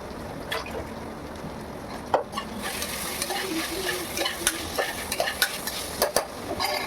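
Food sautés in a hot pan in a home kitchen, a steady sizzle under repeated scraping strokes of a spoon stirring and turning it, close and moderately loud.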